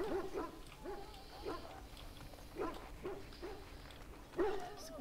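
A dog in the video game Dragon Age: Origins giving a series of short yips, whimpers and soft barks, fairly quiet, spaced irregularly over a low background.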